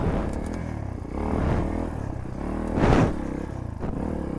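An off-road motorcycle labours up a rough mountain road covered in landslide debris, its engine close and surging through uneven revs as it climbs.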